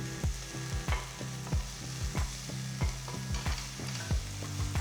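Finely chopped onion, green chillies, garlic and ginger frying in oil for a chicken keema filling, with a steady sizzle broken by regular scraping stirs of a spoon against the pan, close and loud, no voices.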